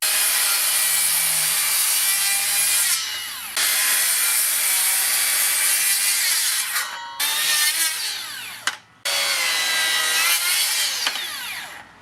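A Makita 40V cordless circular saw cuts through wood with a loud, high, sustained whine. The cutting runs in several long passes, broken by brief gaps where the blade spins down and starts again.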